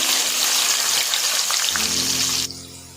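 Raw mango pieces sizzle and crackle loudly in hot oil with mustard seeds and curry leaves for a mango pickle, a dense steady frying hiss that eases slightly near the end.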